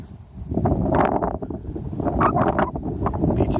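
Gusty wind buffets the microphone on flat, open Turtle Beach near Siesta Key, a loud rumbling roar that swells and eases in bursts, with faint rustling over it and no talking.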